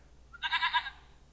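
A goat in the King's Quest I video game gives a single wavering bleat of about half a second, clear and alone against a quiet background.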